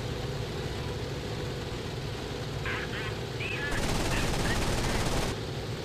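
Aircraft machine gun fire in the flight combat game IL-2 1946, a sustained burst of rattling shots over a steady engine drone, moderately loud, with brief whistling sounds before it and a voice speaking.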